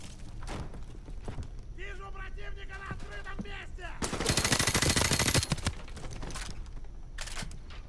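Gunfire in Call of Duty Modern Warfare Remastered, with scattered single shots, then a dense, loud burst of automatic fire lasting about a second and a half, followed by a few more shots over game ambience.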